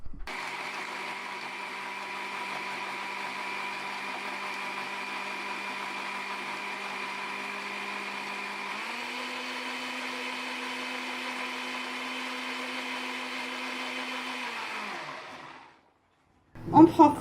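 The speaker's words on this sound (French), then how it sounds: "j'ai mis mon mixeur en marche pour avoir un jus bien liquide" A kitchen blender whirs steadily while blending juice made with half a lemon and water. The motor hum shifts up in pitch partway through, runs for about fifteen seconds and then winds down, followed by a brief clatter.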